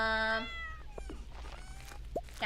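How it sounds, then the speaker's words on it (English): A cat in the Stardew Valley farming video game meows: a clear, drawn-out cry followed by a few shorter, quieter mews over faint background music. "Cat gave me a fish."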